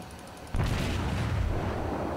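Naval artillery firing on an island in the World of Warships video game: a sudden heavy boom halfway through, followed by a loud, sustained rumbling roar that rolls on to the end.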